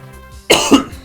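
A single hard cough bursts out after a brief quiet stretch, close and loud, with a second rougher push right behind it.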